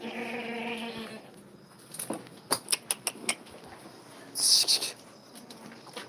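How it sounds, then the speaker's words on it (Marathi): Goats on a goat-rearing farm bleat, one wavering bleat at the start, followed by a quick series of sharp knocks or taps and a brief rustling burst, fairly faint overall. "ही बकरी आणली"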